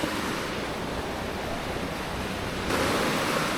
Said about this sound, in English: Look how fast the river is flowing.